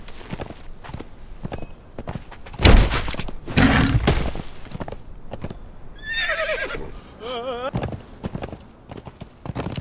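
A horse whinnies in a rising, shaky call in the game Conan Exiles, with hoof clops, heavy thuds and someone talking over the game sounds.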